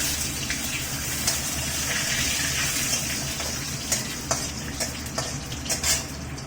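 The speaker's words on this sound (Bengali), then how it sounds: "এবার আমি দেবো গরম মশলা আর গোটা জিরে ফোড়ন, আর দেবো একটা তেজপাতা" Whole cumin, garam masala and a bay leaf tempering in hot oil for a pumpkin kofta curry, giving a steady close sizzle and crackle with scattered sharp pops toward the end.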